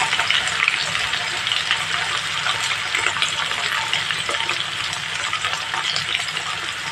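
Dense sizzling and crackling of potatoes frying in a pan, steady and near, with light stirring noises throughout.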